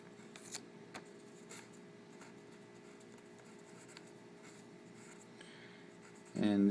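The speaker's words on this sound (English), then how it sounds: "So writing this out, we put in our values." Handwritten formula going down on paper, a faint continuous pen scratch with small taps, then a voice starts at the very end.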